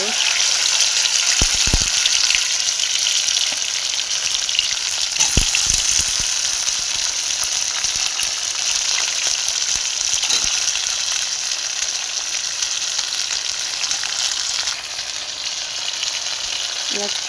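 Okra fries in hot oil in a wok with black cumin seeds, giving a loud, even sizzle that holds steady throughout and dips slightly near the end.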